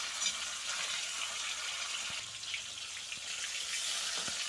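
Pieces of rui fish frying in hot oil in a pan, a steady close hiss and crackle of sizzling with a few soft knocks of handling, no voices.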